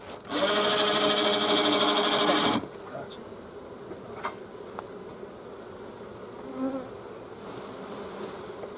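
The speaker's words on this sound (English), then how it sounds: "We've got a whole pile of bees underneath." Dense, loud buzzing of many bees for a couple of seconds, then it drops to a low hum with scattered faint buzzes.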